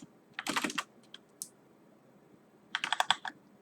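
Computer keyboard typing in two brisk bursts of keystrokes separated by a quiet pause, close and fairly soft, with no talking.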